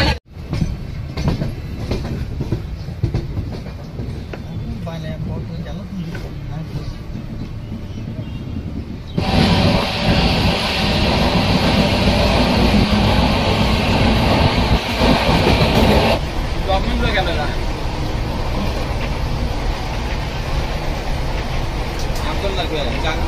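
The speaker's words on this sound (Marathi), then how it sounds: "मी ट्रेन बघतोय ट्रेन" A train rumbles past close by with clattering wheels, getting much louder partway through and staying loud to the end, while people talk under the noise.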